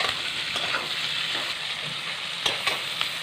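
Capsicum and onion sizzling in a pan while being lightly stirred, a continuous close frying hiss with a few soft scrapes of the spatula.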